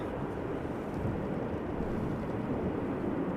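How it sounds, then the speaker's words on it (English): A steady broadband roar of a Pegasus A321neo airliner arriving at Amsterdam Schiphol, heard at a distance as a constant rushing drone with no talking. "First up, Pegasus, arriving from Istanbul, A321 Neo."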